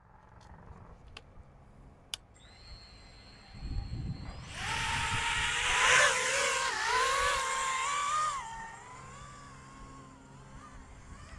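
An HGLRC Sector5 V4 five-inch freestyle FPV quadcopter, flown on stock settings in strong wind: faint clicks, then motors spin up into a loud, rising and falling high-pitched whine that holds for several seconds before cutting off abruptly, with wind noise underneath.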